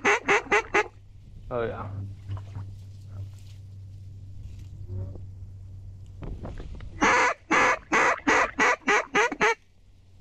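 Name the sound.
ducks calling, shovelers flying in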